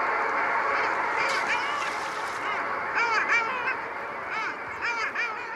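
A flock of long-tailed ducks calls together in a chorus of overlapping, yodeling, nasal cries that rise and fall against steady outdoor noise.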